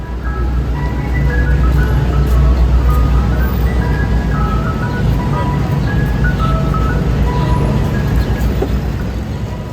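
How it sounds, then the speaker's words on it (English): An ice cream truck's chiming melody plays in a busy park, its tinkling notes carrying steadily over continuous crowd chatter and traffic rumble. "Do you recognize this ice cream truck song?"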